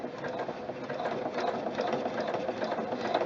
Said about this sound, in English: right now I'm sewing through 6 layers of heavy denim